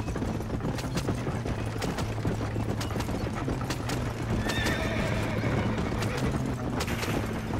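Horses gallop and neigh in a Western action game, with dense, continuous hoofbeats and repeated whinnies alongside occasional distant gunfire, all at a loud, busy level.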